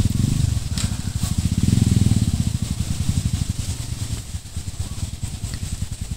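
Several motorcycle engines approach near a river, a loud rough low rumble with pulsing exhaust that holds steady throughout, with no talk.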